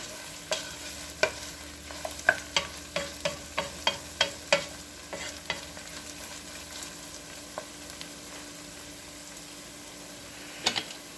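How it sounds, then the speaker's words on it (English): A spoon stirs chicken pot pie filling in a pan, a quick series of close scraping taps repeated a dozen times over a soft constant sizzle, then the stirring stops and the quiet frying continues, with a last couple of scrapes near the end. "Stir occasionally while cooking."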